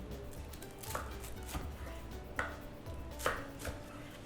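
A knife slices through a Jain sandwich on a board, several crisp chopping strokes spaced unevenly over a few seconds, close and quiet with no talking.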